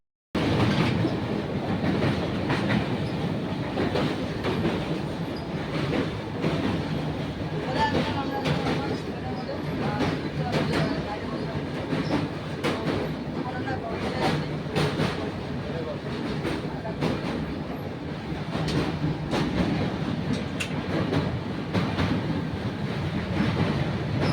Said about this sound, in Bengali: তারপরে চলে আসলো আমাদের ট্রেন।